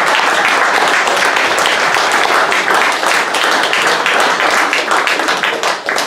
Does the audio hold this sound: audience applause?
yes